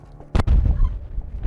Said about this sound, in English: And that's just 5 of the thousands of anti-tank mines